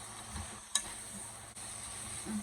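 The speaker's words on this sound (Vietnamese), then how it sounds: "Không có xào chín, mình chỉ xào sơ thôi." Bean sprouts and jicama lightly stir-fried with seasoning as filling for bánh xèo, giving a faint, steady sizzle with one brief clink of a utensil.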